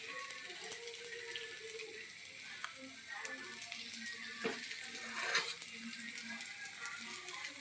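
Sweet kuzhi paniyaram batter sizzles steadily in the pan, a soft continuous frying hiss with faint clinks and small splashes now and then, no talking.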